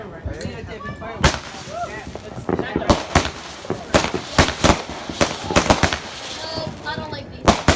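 Fireworks bursting in a rapid, irregular string of loud sharp cracks and bangs, some crackling tails between them, with people talking faintly underneath.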